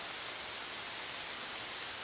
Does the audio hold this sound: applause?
no